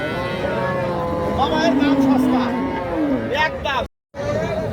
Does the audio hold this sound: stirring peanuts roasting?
no